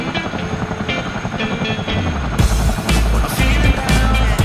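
Heavy thudding rotor beat and turbine whine of a CH-47D Chinook tandem-rotor helicopter in Microsoft Flight Simulator, loud and steady throughout, with the low rotor throb growing stronger partway through.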